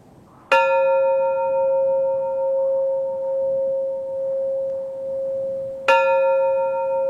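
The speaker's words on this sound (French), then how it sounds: "La tradition veut que chaque pèlerin sonne la cloche en arrivant au sommet" A pilgrim rings the bell at a sacred Buddhist summit in Sri Lanka: two clear, loud strikes several seconds apart, each leaving a long, pure ringing tone that slowly pulses as it fades.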